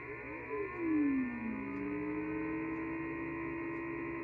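A Cobra 29LTD CB radio makes a VFO wind-up tone through its speaker. It is a steady electronic whine that sweeps through several pitches and then holds, heard over a constant hum with no talk.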